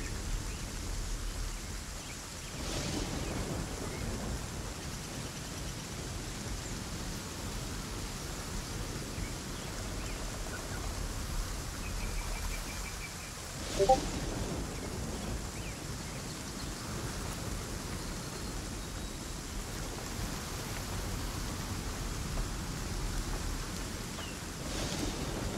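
Steady rain falls in the survival game ASKA, a constant even hiss that fills the whole stretch, with a couple of brief louder thumps breaking through.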